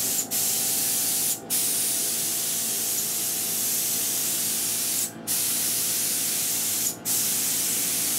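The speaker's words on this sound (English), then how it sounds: "I'm using a Harbor Freight HVLP gun." A Harbor Freight HVLP gun sprays black automotive paint onto a jetpack prop as a steady, close hiss, cut by four brief pauses, with no talking.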